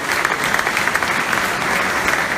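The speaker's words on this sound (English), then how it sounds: "Please give them a round of applause." Audience applause at an Akon Lighting Africa event in Gambia, a dense, steady wash of many hands clapping, loud and close with no talk over it.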